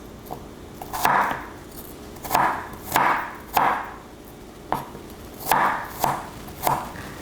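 A knife chops ingredients for a Vietnamese vegetarian udon soup into small quarter wedges on a cutting board, about ten crisp, evenly spaced cuts, each a close, sharp knock.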